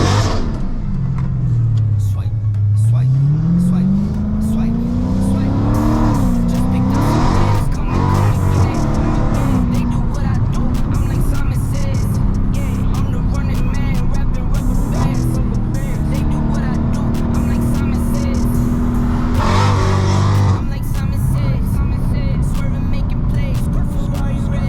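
An 800 bhp Hellcat accelerates hard at night. The engine is loud and close and revs up and down through gear changes for the whole stretch, with voices talking over it.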